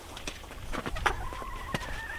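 A hen being picked up during evening farm chores clucks in short, close bursts, with a few scattered bird calls and light handling noise.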